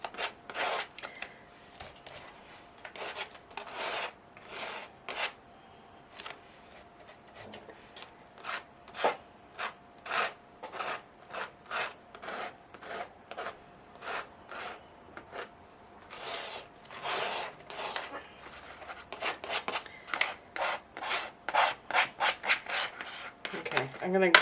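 A scraper rubs paint texture onto a mixed media journal page in a long series of short, dry scraping strokes, the rhythm quickening toward the end, close up and fairly quiet.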